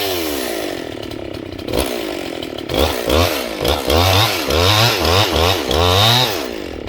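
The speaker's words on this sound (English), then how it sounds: "Hear how the saw suddenly got rich there on the bottom? That's a sheer sign. I bet you these rings are now seated." A Husqvarna 268 chainsaw being broken in with its rings seating runs loud and close, its engine note rising and dropping in repeated rich, burbling revs.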